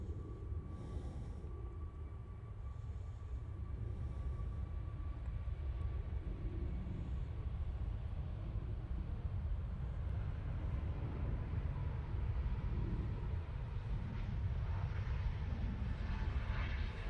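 A TUI airliner taxis out at Manchester Airport, its engines a steady, distant low rumble with a faint whine, holding a constant level throughout with no voices.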